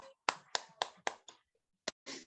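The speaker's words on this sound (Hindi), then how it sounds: "जोरदार ताली होना चाहिए सर" Applause at an indoor training event, heard as a handful of sharp, separate hand claps close by, a quick run of five followed by a pause and two more, with no talking.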